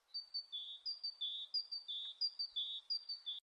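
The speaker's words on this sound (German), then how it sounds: "Digga, dieser Sound wurde rausgemacht von der Welt, ne? Dieser Vogelsound." Repeated bird chirps from a video game, a steady run of about a dozen short, bright two-note tweets in close rhythm, clear and alone without talk.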